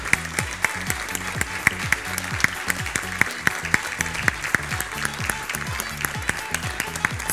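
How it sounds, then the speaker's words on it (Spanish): Clapping fills a preschool graduation ceremony as an audience applauds a kindergarten graduate, with continuous crowd clapping and crisp, close individual claps throughout. "Y nosotros le damos un fuerte aplauso a Bruno."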